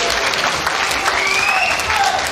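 A bowling crowd at the 2021 Weber Cup gives Anthony Simonsen a standing ovation, with dense, sustained clapping and faint cheering and whistling throughout.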